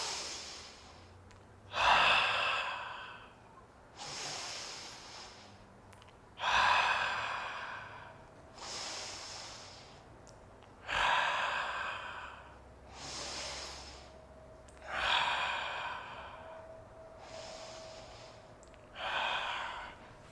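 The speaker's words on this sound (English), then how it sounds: "just try to breathe here 3 or 4 times" Slow yoga breathing, with five or six long breaths rising and falling at a steady, even pace, close and soft.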